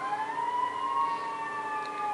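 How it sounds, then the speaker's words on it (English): Several ambulance sirens sound together, steady overlapping wails drifting gently in pitch at moderate distance, unbroken for the whole stretch with no voices. "And more ambulances."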